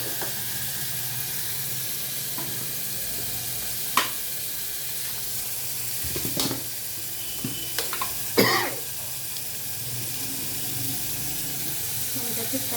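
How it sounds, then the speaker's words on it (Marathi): Chutney and salt tipped into a hot frying pan and stirred, with a continuous sizzle and a few scraping clatters of the spoon against the pan. "आता त्यात आपण चटणी मीठ टाकायचं."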